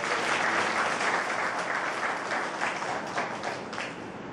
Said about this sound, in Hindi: एक बार तालियां करें।